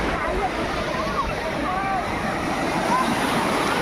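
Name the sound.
sea waves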